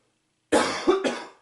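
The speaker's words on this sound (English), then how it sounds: "Sorry about the constant coughs." A single close cough after silence, followed by a short second cough, loud and raspy.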